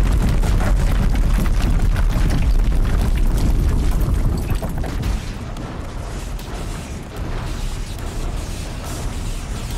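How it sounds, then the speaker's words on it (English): A loud, sustained explosion rumbles through the Horizon Zero Dawn game scene, a dense low-heavy roar that holds for several seconds before easing slightly, then continues as heavy booming din without speech. "Wow! Explosion."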